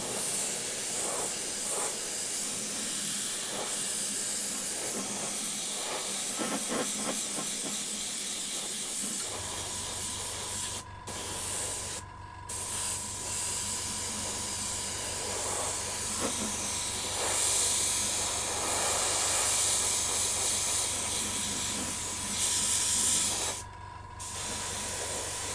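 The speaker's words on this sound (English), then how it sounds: "I just need something to hold on to while I'm spraying it." Aerosol spray paint hisses in long steady bursts across the underside of a model Legion AAT Separatist tank, close and continuous with brief pauses between passes.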